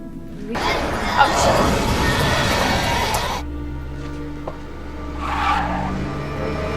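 A car speeds up with its tires squealing in a scene from the TV series Angel: a loud, roaring burst lasting about three seconds, then a quieter stretch with a low hum and a brief noise near the end.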